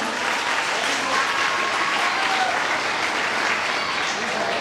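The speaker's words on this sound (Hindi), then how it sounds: "इस बच्चे के लिए एक बार सभी जोर से ताली बजाइए" Sustained, even applause from an audience for a child's storytelling, a full and continuous patter of many hands clapping without a break.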